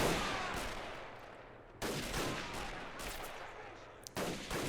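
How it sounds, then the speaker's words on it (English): Dense rifle fire crackles through a WW1 urban bridge battle in Men of War Assault Squad 2, volleys of overlapping shots rolling continuously with brief pauses between loud bursts. "rifle fire."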